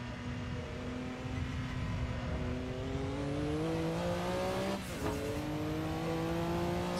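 Porsche 962C race car engine on the Nordschleife in Assetto Corsa, droning loud and steady with rising revs, then a sharp gear change near the end as it drops from third to second and the pitch climbs again, with no voices.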